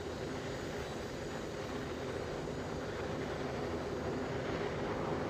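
A Legacy 650 business jet engine in a flight simulator game gives a steady, continuous roar that holds evenly throughout with no voices.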